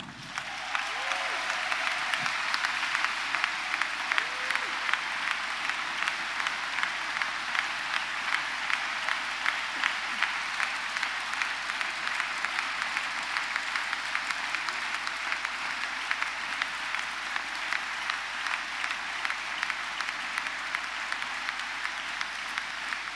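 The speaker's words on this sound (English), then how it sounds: "I would like to ask you for great applause for Anna De Grande" An audience at a dance festival applauds steadily and loudly, a dense wash of clapping that holds at an even level for the whole stretch.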